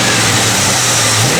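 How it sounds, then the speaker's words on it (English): A 1986 Chevrolet Blazer K5 engine, close and loud, gives a short rev, its throaty mid-pitched drone swelling briefly over a brisk moment. "Give a little rev, Gary."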